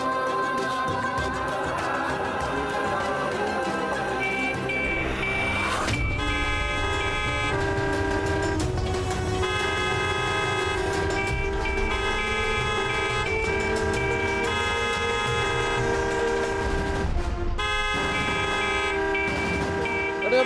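Vehicle horns honking outside a house, a dense, continuous blare of overlapping tones sustained loudly throughout, with a brief shift partway through.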